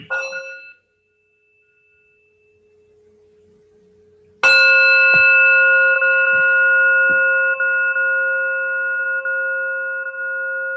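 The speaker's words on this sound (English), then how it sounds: "So I'll invite one more sound of the bell" A mindfulness bell is struck once at an evening meditation gathering, a bright clang that rings out loudly and sustains a long, steady shimmering tone, following a short earlier chime that fades into near silence.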